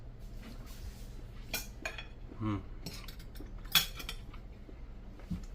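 Knife and fork working through a cooked steak on a plate, giving soft scraping and a few light metallic clinks of cutlery against the dish at close range.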